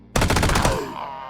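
Burst of automatic gunfire in QuasiMorph, a loud rapid rattle of shots lasting under a second before ringing away into a fading tail.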